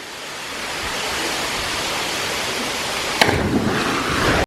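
An Australian waterfall pours steadily with a dense, even hiss of falling water, close and continuous, with a brief sharp knock near the end and no talk.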